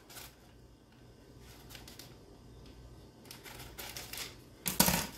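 Scissors snip through adhesive pickguard tape in a few sharp, close clicks and crisp cuts, ending in a louder burst, against a quiet room.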